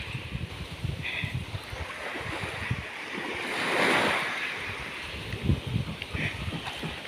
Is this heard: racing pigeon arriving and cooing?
no